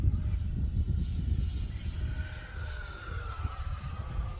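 Freewing Stinger 64mm EDF jet RC airplane flying in strong wind, a thin whining turbine tone shifting in pitch as it passes, fairly faint over heavy low wind rumble.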